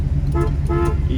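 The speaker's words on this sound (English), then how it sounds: "you even got a horn." Two short honks from the horn of a 1975 Pontiac Trans Am, a brief tonal toot sounded twice in quick succession over a low engine rumble, close and fairly loud.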